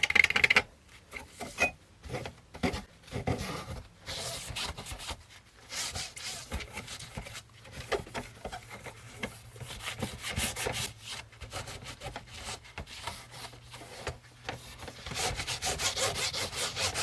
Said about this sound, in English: Now I've got to remove all the polish and stuff.